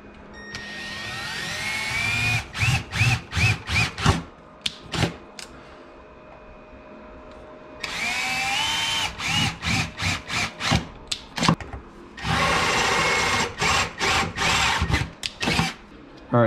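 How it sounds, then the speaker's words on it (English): Power drill boring holes for M4 nutserts during a mini radiator install on a Honda CRX, with whirring bursts alternating with short rapid pulsed triggers, close and loud, with pauses between runs. "So I'm gonna drill these holes here for an M4 nutsert"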